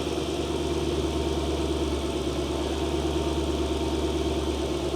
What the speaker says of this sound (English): take a listen to that V8 engine in there